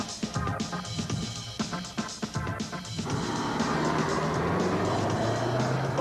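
A Subaru Outback with permanent four-wheel drive runs a slalom course at 50 mph, first with choppy bursts of engine and tire noise, then a dense, steady roar of road and wind noise.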